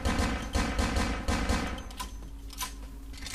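Gunfire from a weak handgun-style weapon in Vampire: The Masquerade – Bloodlines, a dense run of loud, close shots with game combat noise that thins out toward the end, and no speech.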